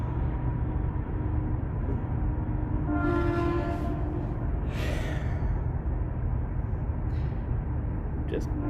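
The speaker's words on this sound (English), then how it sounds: "Just waiting for the stupid train to go by." A train rumbles past steadily at night, its horn sounding in a couple of tonal blasts, while someone breathes and sighs close to the microphone inside a car.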